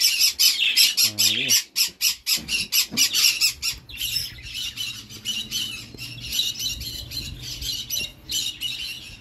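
Pet birds squawk loudly and repeatedly during a free flight training session, harsh bursts coming in a fast irregular rhythm close by, with someone speaking briefly in between.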